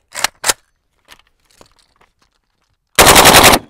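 A full-auto converted semi-automatic AK-style rifle dumps its magazine in one loud, continuous rapid burst near the end, after a couple of sharp isolated bangs and quiet handling noises.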